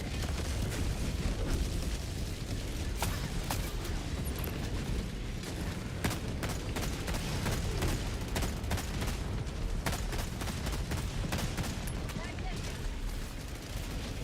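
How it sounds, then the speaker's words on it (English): Dense, continuous barrage of explosions and gunfire from an orbital strike in a mech-themed shooter video game, booming and relentless across the whole stretch with no pause. "Orbital barrage incoming."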